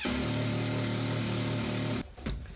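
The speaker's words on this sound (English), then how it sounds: "So I have to drill that out." A power drill whirs steadily at high speed for about two seconds, then stops abruptly, followed by brief handling clatter.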